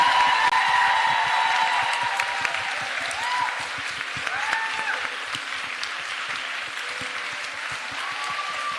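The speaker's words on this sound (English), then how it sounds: "Can we just get a huge, huge round of applause for our panel?" A large audience applauding a panel of experts, dense sustained clapping that stays loud throughout and tapers slightly toward the end, with a few faint voices mixed in.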